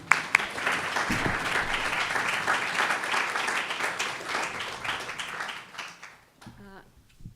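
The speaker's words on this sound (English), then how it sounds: "Let's give Jean a round of applause." Audience applause for a speaker at a spoken-word event on austerity, a dense steady roar of many hands clapping that thins out and fades near the end as a voice begins.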